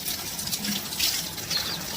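Water splashing and trickling onto a plant from a pour, a steady close-up hiss of liquid over about two seconds with small bursts, no voices.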